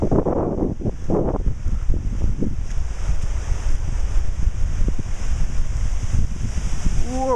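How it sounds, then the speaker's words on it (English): A gust of wind blows through the aftermath of a tropical storm, a loud rushing roar buffeting the microphone. A voice is heard briefly at the start. "Here comes another gust."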